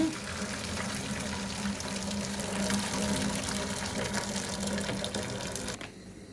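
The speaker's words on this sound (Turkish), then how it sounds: "Altını kapatıp suyunu süzeceğiz, dökeceğiz." Water from boiled dried beans for a hundred-serving batch is poured off, a loud continuous rushing gush that runs steadily and cuts off abruptly near the end.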